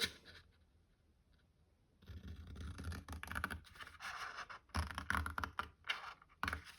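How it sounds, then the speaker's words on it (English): Card paper being trimmed for a pop-up box card, a run of close scratchy cutting and snipping strokes that starts after a quiet first two seconds and continues in uneven bursts. "Next, I'm going to trim this bit totally away."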